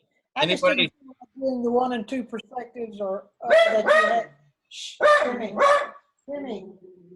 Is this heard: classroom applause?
no